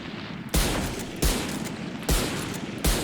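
Four loud, evenly spaced single shots ring out from the Marshall sniper rifle in Valorant, each a sharp crack with a short tail, fired alone with no talking.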